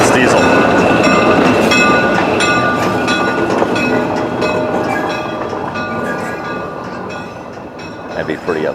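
A diesel train passes close by, loud rumbling and clattering with tonal engine drone, gradually easing toward the end.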